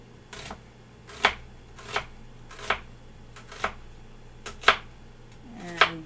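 A knife chops onions on a cutting board in a home kitchen: eight crisp, evenly spaced cuts about a second apart, close and clear with a faint hum beneath.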